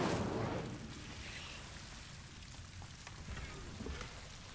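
An Incendio fire spell goes off in the game Hogwarts Legacy, a soft rushing burst of flame at the start that fades into a quiet, crackling hiss.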